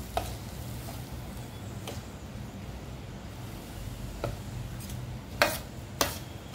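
A spoon stirs spice masala in hot oil for a sweet raw mango pickle, with a soft, steady sizzle underneath and a few sharp clinks and scrapes against the pan, mostly toward the end.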